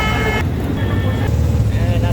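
Vehicles pass close along a roadside in Mostannagar, a loud rolling rush of engines and tyres with shifting tones, while a person talks over the traffic.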